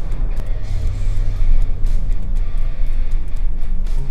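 A 2015 Toyota Tundra pickup with the 5.7 engine pulls a loaded trailer and accelerates in fifth gear, giving a steady, close, low engine rumble and road roar that holds throughout.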